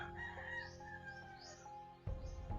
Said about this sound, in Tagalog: Marami talagang manok ito.